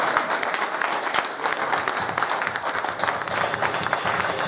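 A church congregation claps and cheers in a continuous burst of applause that fills the room at moderate volume, with some voices mixed in.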